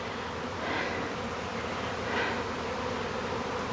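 A honey bee swarm buzzes steadily around a hive box outdoors, a dense continuous drone that swells slightly now and then, and no one speaks.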